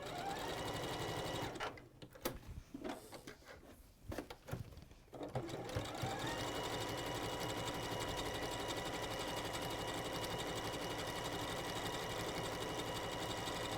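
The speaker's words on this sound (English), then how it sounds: "I'm going to use a zigzag stitch so it goes across that seam allowance." A domestic sewing machine runs a zigzag stitch along a seam allowance while making a hot water bottle cover, with short stop-start bursts early on, then a steady, continuous close-up whir to the end.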